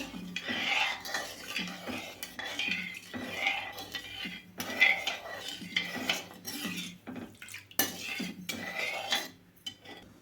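Spoon stirring sugar syrup in a metal pan for homemade badusha, with repeated scraping and clinking strokes at an uneven rhythm, close and moderately loud, no talking.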